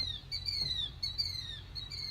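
Loud bird chirps in a VR game, a run of bright, rapid tweeting calls repeating several times close up over a low background rumble, with no talking.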